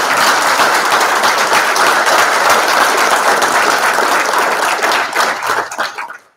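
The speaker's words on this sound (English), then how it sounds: "he deserves a round of applause for all that he's done" Sustained applause from a crowd at a public agency's regular meeting, steady and full for several seconds before thinning out and fading at the end.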